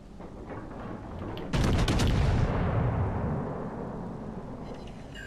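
A naval gun volley from the battleship IJN Hyūga in World of Warships Legends: one sudden heavy booming blast that rolls on and slowly fades over a few seconds, with no talk.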